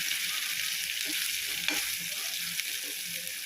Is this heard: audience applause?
no